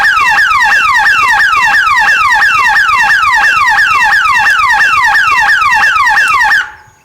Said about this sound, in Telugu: solar alarm